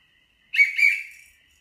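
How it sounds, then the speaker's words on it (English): A shrill whistle sounds in one brief blast with two quick pulses, clear and alone against silence. "I'm going to blow my whistle twice."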